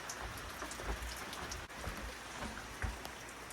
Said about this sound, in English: the rain continues to come down